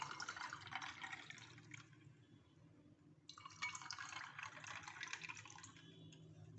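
Water poured from a jug into a glass of orange squash with ice cubes, a steady splashing fill that pauses briefly near the middle and then resumes, close and fairly loud, with no talking.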